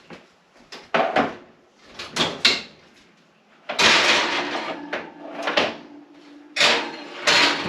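Oven door in a home kitchen swung open and shut while cherry pie cookie cups go back in to bake, a series of close clunks, creaks and rattles with bursts of handling noise, several distinct knocks over a few seconds.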